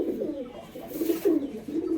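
Pigeons cooing in a low, throaty rolling rhythm, a pair of active breeding birds up close, with repeated cooing phrases swelling and fading through the moment.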